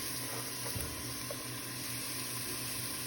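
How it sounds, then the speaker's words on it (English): Onion sizzling in olive oil in a pot over medium heat, a steady, even hiss that holds without a break, fairly quiet and close, with no talk. "we're gonna now put in the onion. Oh, that sound, that aroma, incredible."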